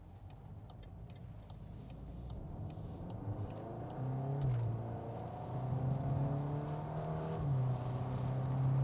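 A Volkswagen Golf R 20th Anniversary Edition with the performance pack, driven on the road. Its engine hums low and steady from inside the car and rises as the revs build, with no voices heard.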